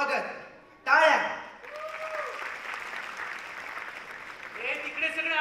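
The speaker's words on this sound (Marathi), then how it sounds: "टाळ्या." Audience applause at a Ganesh festival welcome ceremony before a stage skit: a brief voice opens, then steady clapping from a crowd swells loudly and carries on through to the end, easing slightly in the middle.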